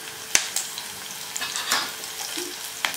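Spices with Kashmiri chili are stirred in a frying pan, giving a soft sizzle broken by a few sharp metallic clinks and scrapes of the spoon against the pan, with no speech.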